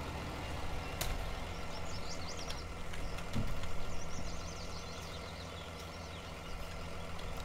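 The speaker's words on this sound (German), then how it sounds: "Also außer der LKW, der klingt einfach nur schrottig." A truck engine idles in Farming Simulator 19, a steady low rumble with a rough, clattering edge running continuously throughout, with a slight swell near the middle.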